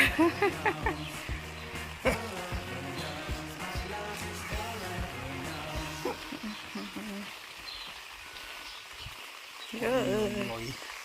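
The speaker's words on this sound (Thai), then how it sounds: "ฝนตกค่ะนี่เสียดายมากเด้อค่ะ" Rain falls on a village in France, a steady patter under scattered clunks and bursts of other activity, with a voice briefly audible near the end.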